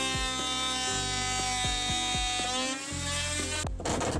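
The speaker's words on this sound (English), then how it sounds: "I take my multi-tool and I cut it off at 26 inches from the sidewall" An oscillating multi-tool cuts through the back rail of an A-frame camper fridge opening, giving a loud, steady buzzing whine with quick pitch dips as the blade bites, ending in a brief rattle.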